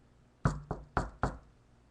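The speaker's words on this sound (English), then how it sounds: "all of a sudden, there's a knock on the door." Four sharp knocks on a door in an uneven rhythm, close and fairly loud with no voices.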